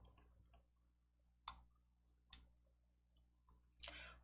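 Mouse clicks sound faintly during a file upload on a computer: a few soft, sharp clicks spaced about a second apart, with a last pair close together, in near silence.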